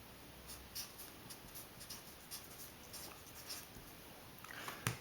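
A pen writing on paper, faint soft scratchy strokes in short irregular bursts, close and quiet, with a slightly louder scrape at the very end.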